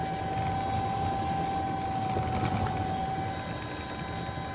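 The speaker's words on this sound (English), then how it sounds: "obviously scared by the sound of the helicopter rotors" Helicopter flying near sea cliffs at Dun Briste in County Mayo, its rotors making a continuous droning whir with a steady tonal hum, fairly close and unbroken, with no voices.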